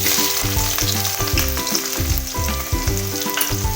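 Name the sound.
onions frying in hot oil with cumin and bay leaves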